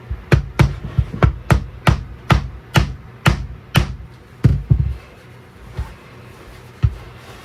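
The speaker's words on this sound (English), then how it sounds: "I'm going to hit it with a hammer" A hammer strikes a large 3D printed Super Mario figure in a quick series of about ten sharp, loud knocks, then a few slower, scattered taps.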